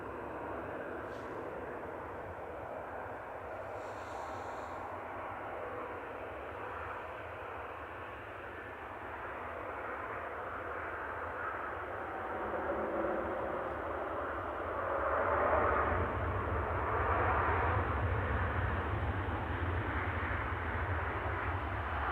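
An Ethiopian Airbus A350-900 arrives at Manchester Airport, a distant, steady jet roar that swells gradually toward the end of its approach.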